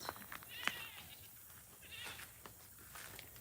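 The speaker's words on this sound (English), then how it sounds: "I can hear the other goats, but River is so loud" Several goats bleat from a short distance, with a few sharp, wavering cries standing out over quiet outdoor background.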